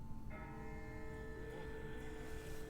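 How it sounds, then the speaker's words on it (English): In The Walking Dead, a far-off bell rings once with a sustained, ringing tone that lingers and slowly fades over a low rumbling background, faint and without speech. "That's not the same bell as before. This one's further off."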